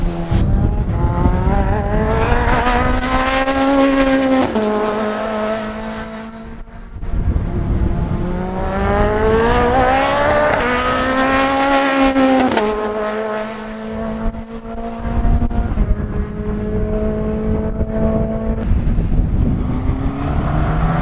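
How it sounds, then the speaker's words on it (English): British GT Championship race cars scream past one after another at Oulton Park circuit, engines rising in pitch as they approach and dropping away, loud and continuous with gear shifts. "capture a bit of racing car action."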